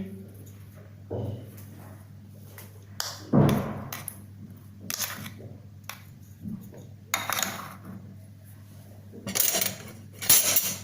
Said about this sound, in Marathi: हे नीट मिसळून घ्यायचं, कालवून घ्यायचं आणि मग दही घालायचं याच्यात।